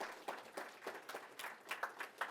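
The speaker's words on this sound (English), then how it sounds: "Give them a round of applause." Audience applause at a FinTech innovation event, steady clapping from a crowd that swells in waves and stays fairly faint, with no talking over it.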